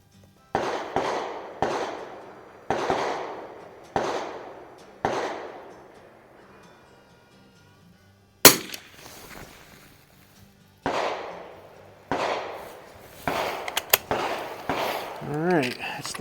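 Winchester Model 75 rifle, a late-1940s example, fired at a 50-yard target outdoors: a string of loud, sharp reports at irregular intervals with quiet gaps between them.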